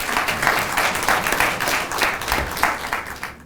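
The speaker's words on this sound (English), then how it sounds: "Let's welcome him with a big applause." An audience claps to welcome a speaker at a talk on India's cultural diplomacy, a steady burst of applause from a room full of people, fairly close and sustained, fading at the end.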